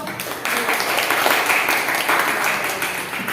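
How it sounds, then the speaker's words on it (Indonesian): Applause for a student group in a classroom lesson, a steady wash of clapping lasting a few seconds at moderate loudness, with some voices mixed in. "Tepuk tangan untuk kelompok."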